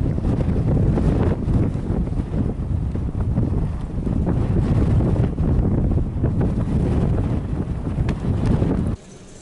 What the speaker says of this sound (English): it is so extremely windy out there